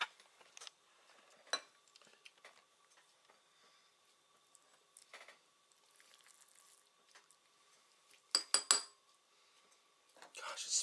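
Cooked ground beef mixture spooned out of a pan for shepherd's pie, sparse metallic scrapes and clinks of a spoon against the pan, quiet between strokes with a louder flurry near the end.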